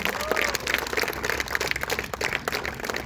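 Audience applause for an advocate being introduced at a child protection week school visit, a dense continuous patter of many hands clapping throughout, fairly close and steady.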